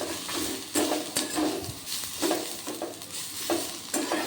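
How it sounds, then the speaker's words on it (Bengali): White sesame seeds toast in a pan while being stirred, giving a quiet, steady sizzle broken by repeated light scraping strokes of a spoon against the pan. "এবার এর মধ্যে কিছুটা পরিমাণ গোটা সাদা তিল দিয়ে দিলাম দিয়ে হালকা করে এটাকেও 30 সেকেন্ড মতো নাড়তে হবে"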